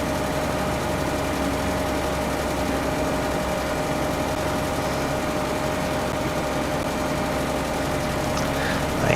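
A farm machine engine in Farming Simulator 22 drones steadily and loudly throughout, a continuous low rumble with a constant hum and no talking over it.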